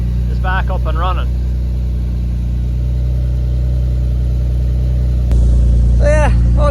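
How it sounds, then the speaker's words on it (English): A BMW drift car's engine idles steadily after a jump start, a loud, constant low rumble throughout with a slight step up in level near the end, while voices talk over it in brief bursts. "car is back up and running"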